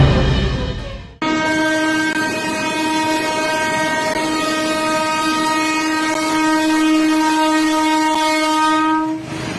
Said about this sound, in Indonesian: Ketika kereta api jurusan Solo-Wonogiri melintas di Jalan Slamet Riyadi Surakarta